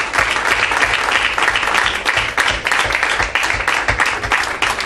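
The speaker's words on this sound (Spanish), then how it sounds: "¿Por qué no damos un aplauso al Señor?" A church congregation applauds together, a steady dense wash of clapping that fills the whole moment at close range, with a rhythmic low thumping running underneath.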